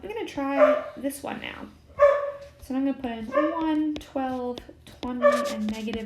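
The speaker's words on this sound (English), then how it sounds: "Sorry about my dog in the background." A pet dog barks in short repeated bursts across the whole span, with a voice talking steadily over it.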